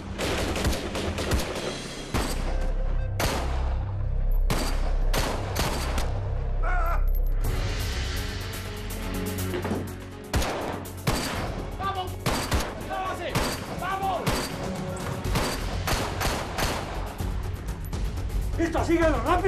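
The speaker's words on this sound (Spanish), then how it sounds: "Parecen disparos." Bursts of gunfire in a Spanish-language telenovela scene, sharp repeated cracks in rapid clusters amid a busy dramatic mix, close and loud throughout.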